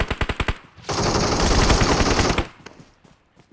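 Gunfire in the mobile battle royale game PUBG Mobile: a rapid run of single shots, then a loud, sustained burst of automatic fire, followed by a few fainter scattered shots.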